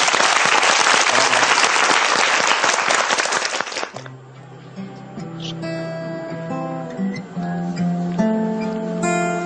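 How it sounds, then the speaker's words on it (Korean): Audience at a small performance bursting into loud, dense applause for about four seconds, which stops as a guitar starts playing. "박수로 한번 청해보겠습니다."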